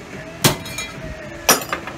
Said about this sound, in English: So we hit about 5 or 6 times and we're looking for that weld to break